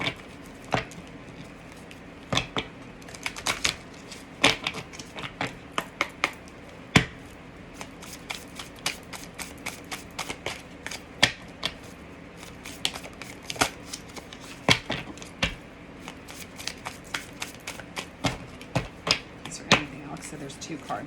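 A deck of tarot cards is shuffled by hand in a series of crisp riffling flicks and soft slaps, repeated irregularly throughout at close range with quiet background.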